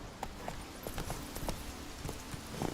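Horse hooves clip-clopping in The Witcher 3, a steady, fairly quiet rhythm of hoofbeats on the ground that keeps going throughout.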